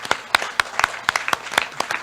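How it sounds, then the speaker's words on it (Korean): Brief applause at a Korean AI forum's founding seminar, scattered individual claps in an uneven rhythm rather than a dense roar, fairly close and moderate in level. "박수 한번 주시기 바라겠습니다"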